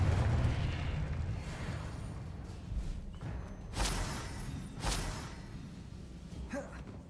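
The Confringo fire spell in Hogwarts Legacy bursts with two sharp explosive cracks over a low rumbling backdrop, fairly quiet and distant-sounding, followed by a faint fading tail.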